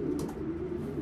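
A blue bar racing pigeon hen cooing close by, one low, soft, rolling coo held through the brief moment, with a faint rustle near the start.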